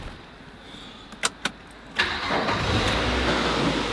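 A Mazda MX-5 NC engine cranks with two short clicks, then catches and settles into a steady, fairly loud idle rumble.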